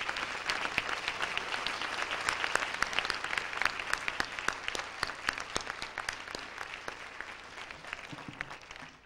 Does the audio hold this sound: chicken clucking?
no